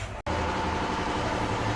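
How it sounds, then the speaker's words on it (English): Continuous droning hum of an air compressor running in a garage workshop, steady and fairly loud with a constant tonal whine, briefly interrupted by a short dropout near the start, no speech. "You can hear the air compressor going in the background"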